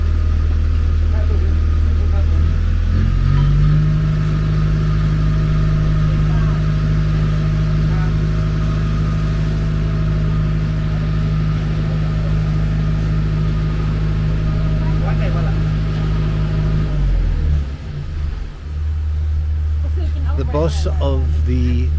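A concrete lorry's diesel engine runs loud and close at a house building site in Khon Kaen, holding a steady raised drone for most of the time before dropping back toward idle near the end.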